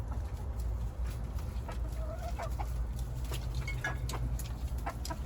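Four egg-laying hens cluck softly on a farm, with scattered short calls over a steady low background hum. The hens sound fairly distant and faint, and no one speaks.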